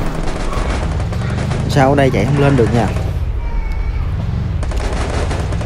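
Rapid bursts of gunfire in the Free Fire mobile shooter game, a loud close volley in the middle of the clip while someone talks over the game sounds.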